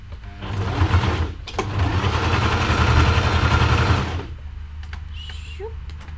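A sewing machine stitches fabric for a macaw fursuit in two close, loud runs, one short and one longer, before stopping into a quieter room with faint small sounds.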